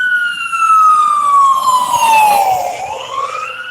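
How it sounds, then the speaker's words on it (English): An ambulance siren passes on a street, a loud, steady tone sliding slowly downward as the vehicle goes by, then fading slightly as it moves away, with no talking. "Here goes an ambulance."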